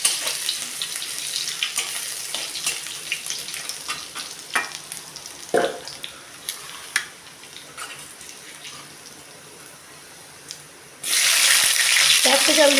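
Chilli and garlic paste frying in a pan, with a steady close sizzle, scattered stirring clicks and a louder burst of hissing near the end.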